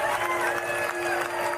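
Members of a marching band cheer for a trombone player before the Rose Parade in California, a steady crowd roar with clapping mixed in throughout.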